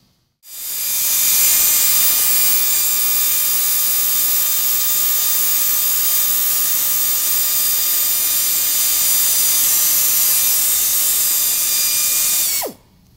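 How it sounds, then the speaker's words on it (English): A 3M headlight restoration kit sanding a plastic car headlight lens, a continuous loud, even whirring hiss with a steady tonal whine, starting sharply and cutting off near the end, no talk. "basically you just want to sand that to a smooth surface"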